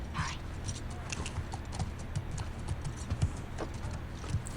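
Horse hooves clip-clop at a steady walking pace in the video game The Last of Us Part II, fairly close and moderately loud, with a brief snort near the start and people talking over the hoofbeats.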